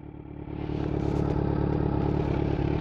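Kawasaki Z900 motorcycle braking hard from 20 mph with both front and rear brakes, heard as a loud, steady close engine drone with rattling and a scraping hiss, no talk.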